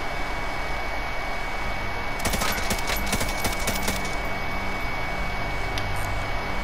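Rapid burst of Bruen Mk light machine gun fire in a Call of Duty match on Rebirth Island, a dense rattling volley lasting about two seconds over steady game ambience.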